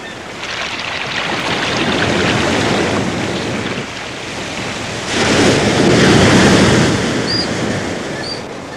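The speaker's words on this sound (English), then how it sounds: "Despite the thundering sea" Loud rough sea roars in two big surges, heavy waves crashing against rocks and washing with wind noise across the microphone.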